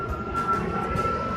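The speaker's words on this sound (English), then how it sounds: "Of course, there's a plane flying over." A fixed-wing airplane passes overhead, its broad engine drone steady and moderately loud throughout the short stretch, heard outdoors with no speech.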